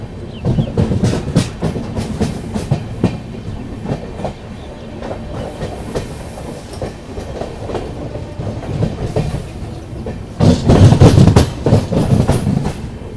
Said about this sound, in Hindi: अभी अपनी ट्रेन पहुंच रही है डालीगंज जंक्शन रेलवे स्टेशन